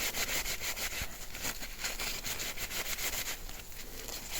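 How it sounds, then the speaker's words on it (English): Pinch rollers of a Toshiba V8600 Beta VCR are scrubbed evenly, giving a steady, close, continuous rasping rub with repeated short strokes and no talk over it. "I'm scrubbing it fairly evenly"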